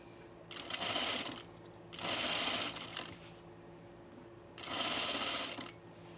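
A sewing machine stitches a seam on a pin tuck sleeveless top in three steady bursts of about a second each, separated by short pauses, fairly close and loud with no talk.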